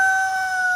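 A brief, loud, close burst from a Barred Rock rooster crowing, a sustained tonal call held steadily without any talk.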